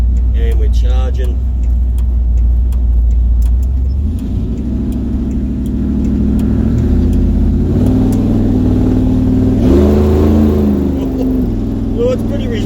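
A Chevrolet 383-engined car on a test drive rumbles loudly from the cabin, its engine revving up in stages with rising pitch, while someone talks over the drone.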